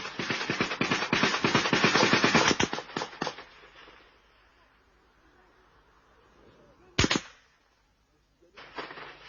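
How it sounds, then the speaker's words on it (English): Gunfire in an ambush on a road from Kampala: a loud, rapid burst of shots fades out, then one sharp single shot, then another burst starts close by. "comrades open fire as soldiers are spotted unexpectedly"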